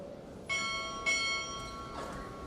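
Ship's bell at a Navy Chief Petty Officer pinning ceremony struck twice, two bright ringing strikes about half a second apart that sustain and decay, with a fainter ring after, no talk.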